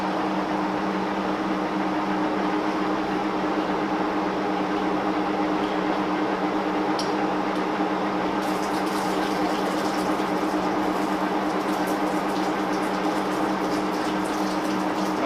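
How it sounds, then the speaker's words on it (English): A lathe's flood coolant pump runs with a steady, even whir and liquid wash, continuous and fairly loud from start to finish, with faint clicks and hiss added in the later part. "So we're going to go ahead and fire up the flood coolant."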